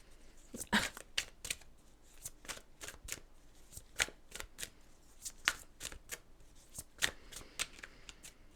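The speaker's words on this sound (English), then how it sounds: "Not that I've ever tried to shuffle the whole deck" Rapid, crisp riffling bursts of a card deck being shuffled, repeated several times in quick succession, close and fairly quiet.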